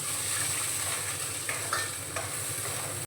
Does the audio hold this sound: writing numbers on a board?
no